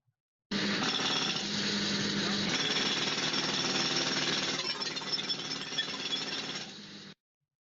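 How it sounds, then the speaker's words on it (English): A jackhammer pounds continuously for about seven seconds, loud and close, with a person talking underneath the hammering before it cuts off abruptly. "here's open ear with a jackhammer and somebody talking"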